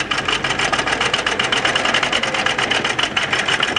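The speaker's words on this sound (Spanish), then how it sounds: "Realizamos el atraque y cosemos" A sewing machine runs a steady straight stitch with a backstitch while sewing the pocket of a child's Bermuda shorts, giving a loud, continuous rapid mechanical whir close by.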